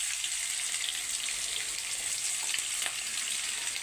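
Onion and garlic fry in ghee and oil in a kadai, a steady bright sizzle and hiss with a faint clink or two; close, even in level, with no talking.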